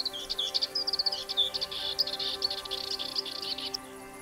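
Insects chirp on lowland heath in spring, a dense high-pitched trilling chorus with rapid pulsing calls running steadily throughout, fairly close, with no voices.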